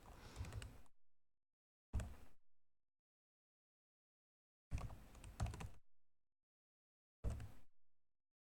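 Keyboard typing in four separate bursts of rapid clicks, each under a second long, separated by stretches of total silence.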